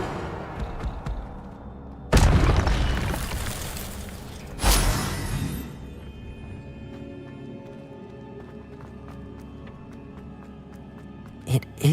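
A fire spell bursts loudly in the Hogwarts Legacy video game, two heavy whooshing blasts close together followed by a low lingering rumble and a short crackle at the end, with no talk over them.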